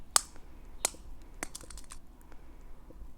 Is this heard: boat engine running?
no